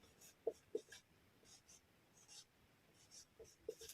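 Chalk or marker writing on a classroom board during a chemistry lesson, soft scratchy strokes in short clusters near the start and again toward the end, faint and close with quiet room tone between.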